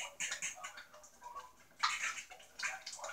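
Hot sauce thickening in a pan on the stove spits and bubbles in quick irregular bursts, a faint, crackling sputter up close.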